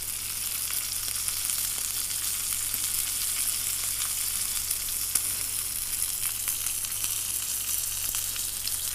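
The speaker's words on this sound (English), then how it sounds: "sear it on the side, on the fat, just to help get that fat a little bit crispy" Steak fat searing in a hot frying pan, the fatty edge held against the metal to crisp: an even, loud, close sizzle that holds steady throughout over a low hum, with no talking.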